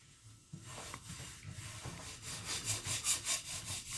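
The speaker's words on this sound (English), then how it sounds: "We're going to rub it right down this pan." The Pink Stuff cleaning paste scrubbed on a pan makes rhythmic rubbing strokes, quiet at first, then a series of louder regular back-and-forth scrapes toward the end, close up.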